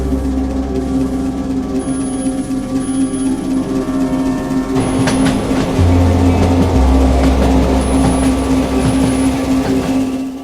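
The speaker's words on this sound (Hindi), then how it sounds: "भूतिया ट्रेन आने का समय हो गया है" A cartoon ghost train rumbles in loudly with a sustained low mechanical hum, clattering noise building midway and a steady high whine, continuous and close with no speech.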